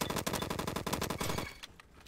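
Automatic gunfire from the Evo and Vector guns in the video game Bad Business rattles in fast, tightly packed bursts that are loud and close, then stops abruptly, leaving a few faint scattered shots.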